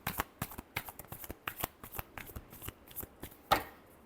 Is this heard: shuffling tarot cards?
yes